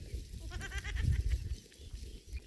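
A goat gives one short, wavering bleat close by, over a low rumbling background.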